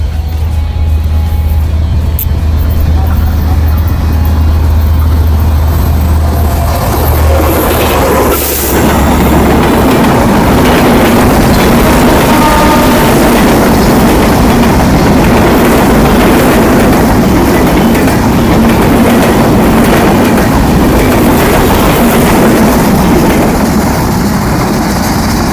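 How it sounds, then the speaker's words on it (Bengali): A train rushes at speed into Jamalganj railway station in Joypurhat: a loud, continuous roar of engine and wheels that starts with a deep rumble and then swells into broad, clattering noise as it passes close by. "দেখছেন ট্রেনটি চলে আসছে, প্রায় খুব স্পিডে কিন্তু ট্রেন আসছে।"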